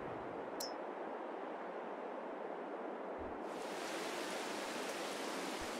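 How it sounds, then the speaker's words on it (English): Rain hisses steadily as an even broadband wash in a farming video game, growing brighter and fuller partway through, with a faint ping near the start and no talk. "And it's raining and my fabric's all outside."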